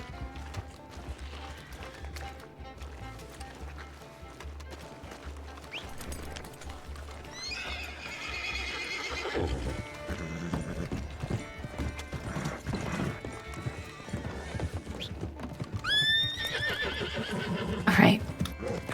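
Horse hooves clip-clop along with loud neighs and whinnies in a western roleplay video game set on a trail, the hoofbeats steady and repeated, whinnies rising over them near the end, with people talking in between.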